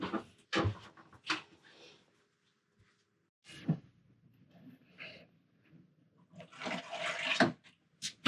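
A newly repaired household toilet flushes in a few bursts of rushing water with gaps of quiet between them, heard close and fairly loud with no talking.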